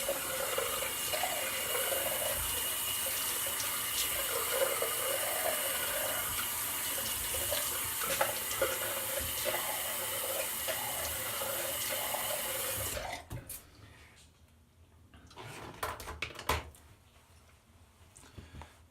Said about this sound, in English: Just rinse off right quick with a cold rinse.